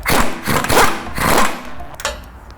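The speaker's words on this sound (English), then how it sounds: "So go ahead and undo this castle nut." A 1 1/8 socket wrench undoing a castle nut on a ball joint of a new Ford F250, three loud bursts of ratcheting and grinding up close, ending with a short clack.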